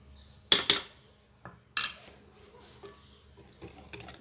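Spoon clinking and scraping against a bowl while cake batter is mixed, a few sharp metallic knocks and softer scrapes spaced out over quiet moments, close up.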